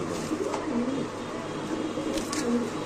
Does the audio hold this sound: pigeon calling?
yes